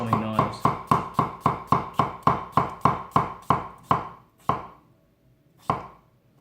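A Toyama 210 mm nakiri knife chops produce on a board in about fifteen crisp, evenly spaced strokes that slow and thin out toward the end, close and clear with no talk.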